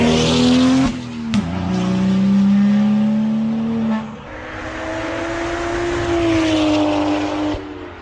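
BMW with an N55 engine driven on a track, its engine note droning loud and close with rising and falling pitch as it accelerates and eases off, plus a brief sharp transient early on.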